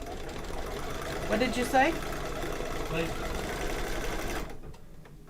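An embroidery machine stitches an applique placement line for a paper-piecing floral design, whirring in a steady rapid hum close by while someone briefly talks over it before it stops.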